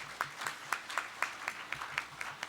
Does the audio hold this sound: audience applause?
yes